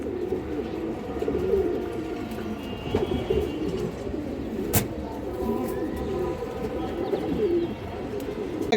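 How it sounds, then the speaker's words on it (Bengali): Pigeons coo steadily at a busy pigeon market among fancy breeds such as silver and bazi pigeons, many birds cooing over one another in a dense continuous murmur, with occasional sharp knocks and faint background chatter. "পেয়ার সিলভার বাজি কবুতর মাসাল্লাহ অনেক সুন্দর কবুতর"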